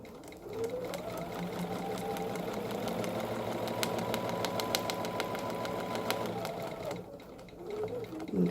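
A sewing machine runs steadily while quilting curved crosshatching along a 3-inch Bernina round ruler, a continuous motor hum and rapid needle stitching lasting several seconds, pausing briefly near the end and resuming.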